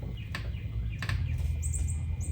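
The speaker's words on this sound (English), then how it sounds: "Birds coming to get me." Birds chirp outdoors during car work, short high tweets scattered over a steady low background hum, fairly faint and at a distance.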